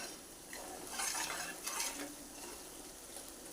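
Spice masala sautéing in hot oil in a pan for a Kathiyawadi whole-onion curry, a steady soft sizzle with brief brighter bursts as it is stirred, close and alone.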